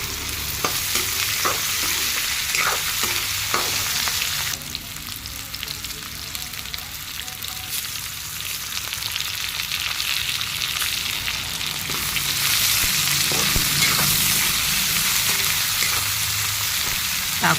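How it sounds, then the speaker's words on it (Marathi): Potatoes and tomatoes stirred in a hot oil tempering for Maharashtrian upma, with steady sizzling and frying hiss throughout and occasional scraping stir strokes of a spoon against the pan. "टाकून फोडणी व्यवस्थित हलवून 2 मिनिटं शिजू द्यावी."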